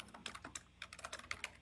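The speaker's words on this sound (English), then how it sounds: "Who's typing away over there?" Someone types quickly on a computer keyboard, a brisk irregular run of close, crisp key clicks with a short pause partway through, heard alone.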